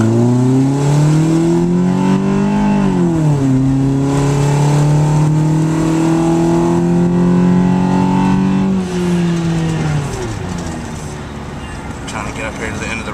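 Nissan Versa with a Stillen exhaust and OBX header making an accelerating pull on an empty road, the engine note climbing steadily in pitch through gears with a brief dip at a shift, loud and close, then easing off.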